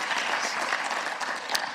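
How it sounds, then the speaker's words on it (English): Audience applause at a seminar welcoming a panelist, a former deputy governor of the Bank of Thailand; a steady wash of many hands clapping at moderate, even loudness for under two seconds. "Please welcome her with big applause"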